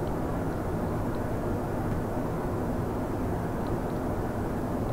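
Rocket engine in the video game Kerbal Space Program, a steady, loud, broadband roar that holds constant without any audible change in intensity, with no voices over it.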